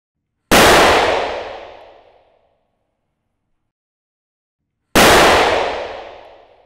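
Two Kalashnikov 7.62x39 rifle rounds fired at a level 4 ceramic body armor plate. Each is a sharp, very loud crack with a long ringing decay, spaced about four seconds apart.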